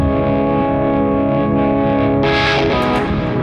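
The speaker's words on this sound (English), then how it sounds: "It's from the organs, and then I linked them here with the guitar rig." A church organ sample processed through Guitar Rig effects with a granular preset plays as a loud sustained chord with wavering, chorused distortion, brightening sharply with a burst of processed shimmer near the end.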